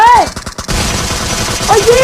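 Gunfire in PUBG on the Erangal map during a pistol challenge: a dense burst of rapid shots crackling loudly through the whole moment, with game effects layered on top.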